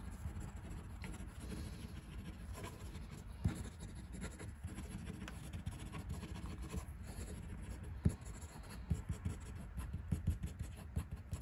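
A Kaweco Liliput fountain pen with Fire Blue finish scratches steadily across paper in fast strokes, a close, quiet continuous rasp with a few small tapping accents and no voices.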